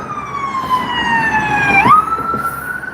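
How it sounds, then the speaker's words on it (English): An ambulance siren wails loudly in steady rising tones, then drops sharply in pitch as it passes close by and continues at the lower tone over background traffic rumble. "here's an ambulance."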